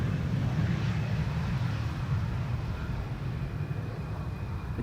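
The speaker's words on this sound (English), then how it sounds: "How long has it been since we last saw an Embraer 190 from KLM doing such" A KLM Embraer 190 airliner landing at Schiphol, a steady broad engine roar with a low rumble that holds at an even, moderately loud level throughout.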